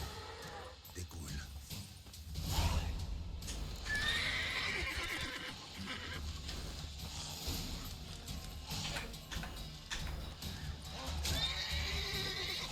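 A horse in The Witcher 3 whinnies loudly amid clip-clopping hooves and game ambience, with the neigh rising clearly over the steady background clamor across the scene.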